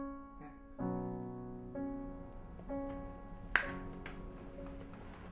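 A single crisp finger snap cracks out sharply near the middle, standing alone over a quiet backdrop of soft sustained tones.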